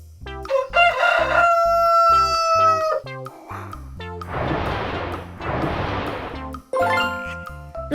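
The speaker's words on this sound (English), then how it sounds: "Rooster." A rooster crows loudly at close range in a long, rising, harmonic call, followed by a few short noisy bursts and a shorter second crow at the end, with no talk over it.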